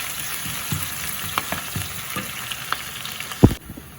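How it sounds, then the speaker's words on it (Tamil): Onions with curry leaves and green chilies sizzle steadily in a hot pan, a close, continuous fry with occasional stirring clatters and a sharper knock near the end, with no talking. "இப்போ பார்த்தீங்கன்னு சொன்னால் வெங்காயம் வதங்கி கொண்டிருக்கு."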